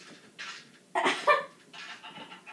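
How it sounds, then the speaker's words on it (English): Chickens in the video game Minecraft cluck in a few short bursts, one louder pair of squawks in the middle, with no talk. "my chickens are making a loud noise up there if you can hear from Patrick's."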